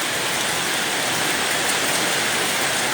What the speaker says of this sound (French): ça pleut, ça pleut